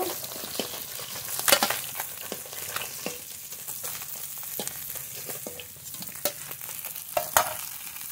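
Tilapia pieces fry in hot oil in a pan, giving a moderate, continuous crackling sizzle broken by sharp spatula clicks and pops at irregular intervals, close up and without talk.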